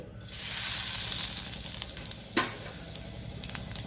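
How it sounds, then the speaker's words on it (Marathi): Cumin seeds hit hot oil in a pan for a country-style Maharashtrian vegetable dish, bursting into a loud, steady close sizzle with scattered crackles and pops, no voices. "तेल चांगलं गरम झालं की टाकणार आहे जिरी"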